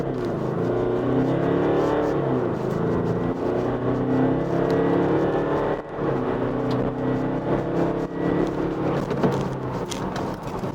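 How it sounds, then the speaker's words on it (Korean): A Jaguar F-Pace SUV with 203 horsepower in dynamic mode accelerates hard to 100 km/h, the engine droning loud and steady inside the cabin and climbing through a gear change near the middle. "시속 100km 가속 시간과 거리 측정해 봤고요."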